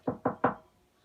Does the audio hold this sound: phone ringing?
no